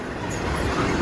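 A train rumbles through a road crossing at Christiana Fosterville Road near Fosterville, Tennessee, a loud, continuous broadband roar of wheels and cars rolling past close by.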